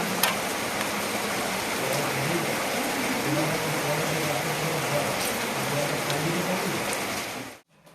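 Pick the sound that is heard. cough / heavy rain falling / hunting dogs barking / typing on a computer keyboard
heavy rain falling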